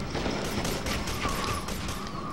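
Continuous dense assault rifle fire in the shooter game F.E.A.R. 2, a rapid steady burst of shots filling the whole stretch with no pause.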